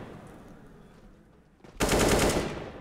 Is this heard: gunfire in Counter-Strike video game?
yes